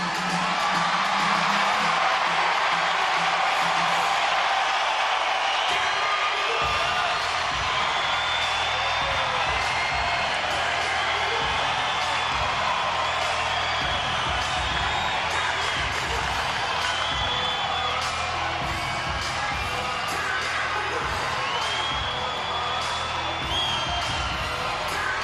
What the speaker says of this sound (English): I want to get that sense of a capacity crowd turning out.